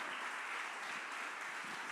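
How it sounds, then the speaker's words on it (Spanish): A church congregation applauds with a dense, continuous wash of clapping that stays steady and even throughout. "¿Le puede dar más fuerte ese aplauso al Señor?"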